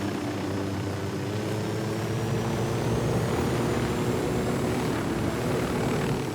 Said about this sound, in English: Okay, so I got myself a helicopter.